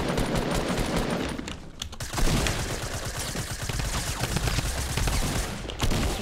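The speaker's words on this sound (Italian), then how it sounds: "Stanno sparando." Sustained automatic gunfire in Fortnite rattles loud and dense almost without pause, with a brief lull near the two-second mark before the shooting resumes.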